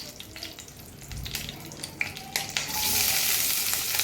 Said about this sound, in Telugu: బిర్యానీ ఆకు, లవంగాలు, అవి కొంతసేపు వేగాక